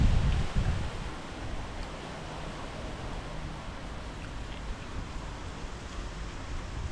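Wind gusting steadily at sea, a broad rushing hiss with heavy buffeting against the microphone at the start, continuous and fairly faint throughout.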